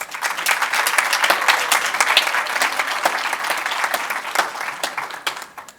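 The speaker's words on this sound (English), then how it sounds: "Let us give a well-deserved round of applause to our top 4 teams." Sustained applause from an audience at a public sector debate competition grand finale, dense steady clapping filling the whole stretch with no speech over it.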